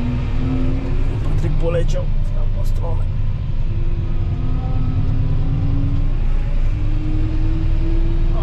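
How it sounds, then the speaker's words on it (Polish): Tractor fitted with wheel weights driving through a field during spring ploughing, a steady low engine rumble with faint tonal whine throughout, someone talking briefly over it. "Pierwszy raz jeżdżę tym traktorem,"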